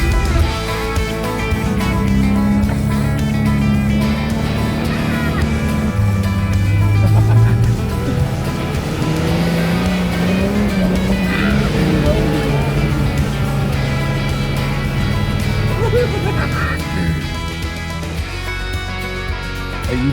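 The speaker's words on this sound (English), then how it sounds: "You do have to gun it a bit in first gear when you're going up a steep bit." A 4x4 in first gear and high-range four-wheel drive climbs a steep sand dune in Namibia, its engine droning loudly and steadily with rising and falling revs throughout.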